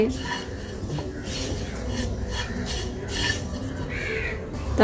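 Semai mixed with powdered milk in a pan for an Eid semai barfi, with close clattering scrapes of a spoon against the metal pan in an irregular rhythm and faint background sounds.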